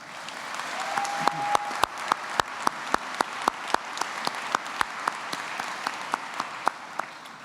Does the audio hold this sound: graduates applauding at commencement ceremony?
yes